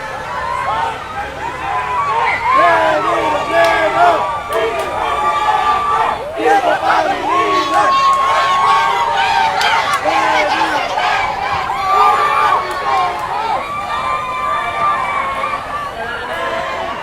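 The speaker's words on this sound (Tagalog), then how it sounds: "there are people here at this rooftop at the Iloilo Science and Technology University cheering on President Leni" A crowd cheers and chatters for Vice President Leni Robredo's motorcade from a rooftop at Iloilo Science and Technology University in Iloilo City, a steady, loud mass of voices with shouts rising throughout.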